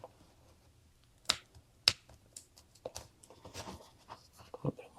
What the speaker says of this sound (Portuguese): Agora eu vou pegar minha tesoura